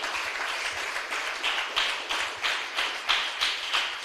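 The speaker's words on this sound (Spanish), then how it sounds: "Dale un aplauso fuerte al Señor" A church congregation applauds together with steady, dense clapping, sustained throughout and swelling in rhythmic pulses as if the crowd claps roughly in time, with no voices on top.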